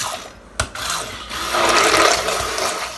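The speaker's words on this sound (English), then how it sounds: "I prefer to use a wand mixer because this ensures that I can get it very, very well mixed." A handheld wand mixer whirs steadily through a French toast egg mixture, a sharp click near the start giving way to a continuous, fairly loud mechanical buzz with no voices.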